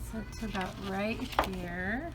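A pet cat meows a couple of times, drawn-out rising and falling calls, close by and mixed with a person talking.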